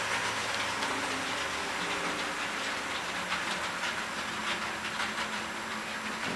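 A train rumbles past close by a newly installed trackside signal, with steady hissing wheel noise and faint rhythmic clacking throughout, no voices.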